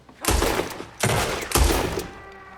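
Gunfire in Red Dead Redemption 2: three loud, booming shots about a second apart, each with a long echoing tail fading out, with no talk.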